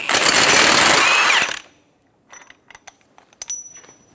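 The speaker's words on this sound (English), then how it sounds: "Using a 36mm socket, we're going to remove the axle nut." A loud, sustained burst of rapid mechanical hammering from an impact wrench with a 36mm socket removing an axle nut on a 2014-2018 Chevrolet Silverado 1500, lasting about a second and a half, then scattered metallic clinks and taps.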